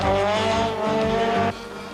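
A 1989 rally car on the Tour de Valvoline course revs hard nearby, engine howling through gear changes with a brief tire squeal before cutting off abruptly near the end.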